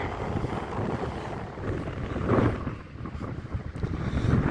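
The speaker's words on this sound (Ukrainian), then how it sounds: "Сьогодні дує, дощик буває, а такий невеличкий." Steady wind gusting across a microphone on the Black Sea coast, a broad rumbling roar that swells midway, with faint water-like wash underneath and no voices.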